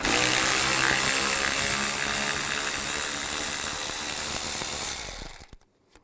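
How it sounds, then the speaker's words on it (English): A 10mm socket on a ratchet or power driver removes a bolt while a 2005-15 Nissan Xterra radiator is being replaced, making a loud continuous buzzing whir for about five seconds before it cuts off abruptly. "Use a 10mm socket. Take this bolt out right here."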